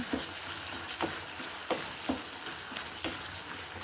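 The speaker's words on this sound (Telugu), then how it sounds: "మంచిగా కలుపుకోవాలండి" Pumpkin halwa with fried dry fruits and cardamom powder is stirred in a pan, giving repeated scraping and sizzling strokes at a steady rhythm, close and fairly loud, with no talking.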